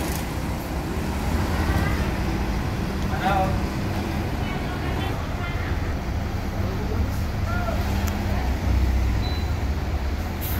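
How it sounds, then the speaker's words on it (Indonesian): A Palembang intercity bus from the Limbersa line pulls away from its ticket office station. A steady low engine rumble and road noise run throughout, with people talking nearby. "Oke, pintu udah ditutup, bus berangkat."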